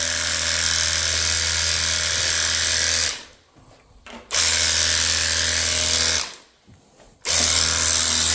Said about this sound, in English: This particular sprayer comes with 2 batteries, which is very convenient.